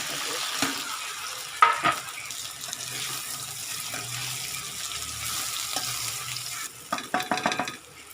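Cumin seeds and green chilies fry in hot oil for a tempering over cabbage muthiya, making a soft, hissing sizzle with a few stirring knocks and a burst of louder crackles near the end.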